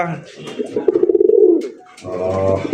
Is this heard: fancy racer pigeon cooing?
yes